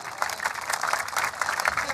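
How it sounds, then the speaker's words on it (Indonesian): An outdoor crowd at a sholawat gathering on a football field in Indonesia applauds Kiai Haji Said Agil Siroj, dense rippling clapping at steady volume, slightly distant and reverberant. "Kita berikan tepuk tangan."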